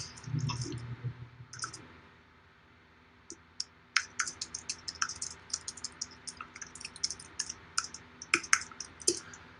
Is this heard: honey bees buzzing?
no